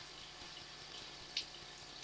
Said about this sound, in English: as you can see, that's this flow of water, so it's going straight down right there